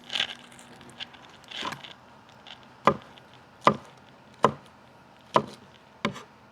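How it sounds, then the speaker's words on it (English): Knife chopping scotch bonnet pepper, ginger and jalapeno on a board outdoors, a series of about six distinct close thuds at an irregular, unhurried pace. "And here I have the scotch bonnet pepper, ginger, and just a little fresh jalapeno pepper from the garden, you know. So we're going to chop up that."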